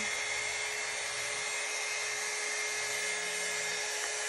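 A hair dryer blows heat onto the ends of a wig, giving a steady, even whirring hiss with a constant motor whine, running alone at moderate distance without pause.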